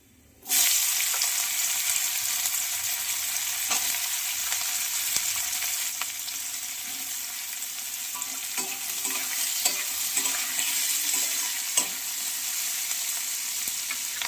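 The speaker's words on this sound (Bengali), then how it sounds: "এদিকে আমি তেলেতে ছোটো এলাচ, দারচিনি, তেজপাতা দিয়ে দেবো।" Green cardamom, cinnamon and bay leaf frying in hot oil, a loud close sizzle that starts abruptly and holds steady, with occasional stirring scrapes and pops.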